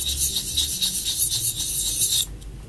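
A blade is sharpened on a fine diamond stone with steady, close, gritty strokes that rasp back and forth before stopping abruptly.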